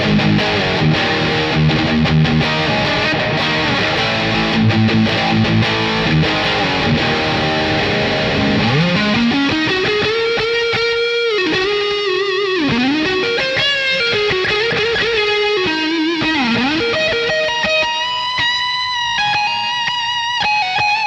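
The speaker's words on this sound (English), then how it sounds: "that sounds like a tube screamer to me" Boss Katana Artist MKII guitar amp head driven by Tube Screamer distortion into plate reverb, loud gnarly electric guitar with chugging palm-muted chords giving way to bending sustained lead notes, played alone without talk.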